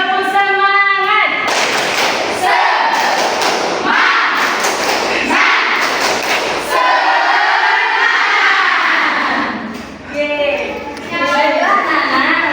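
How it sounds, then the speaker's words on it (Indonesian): A class of fifth-grade pupils at an Islamic primary school repeats a patterned spirit clap, heavy rhythmic claps and thumps under loud group chanting, close by, with a brief dip before the chant resumes. "Sekali lagi, tepuk semangat."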